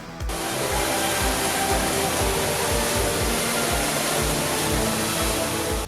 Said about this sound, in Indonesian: terdengar suara gemuruh air yang memecah keheningan.